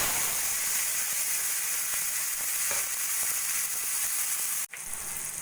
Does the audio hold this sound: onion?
yes